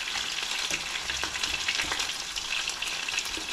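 Lincolnshire sausage and back bacon fry together in one pan with a continuous close sizzle and crackle and a few small pops, without any talking.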